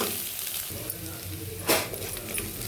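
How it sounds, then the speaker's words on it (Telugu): Onions frying in a pan with turmeric and ginger-garlic paste for a goru chikkudukaya curry give a steady close sizzle through the whole stretch, with a brief louder crackle of stirring near the middle. "ఇదిగండి ఉల్లిపాయలు వేగినవి."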